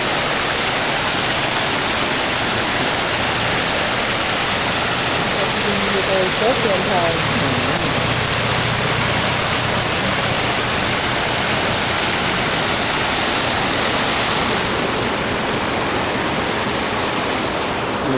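Loud running water in Washington DC rushes in a constant, broad roar close by, probably a fountain, and it eases slightly near the end.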